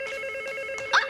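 A telephone rings in a children's show, a steady electronic trill that is close and continuous, ending with a brief louder chirp.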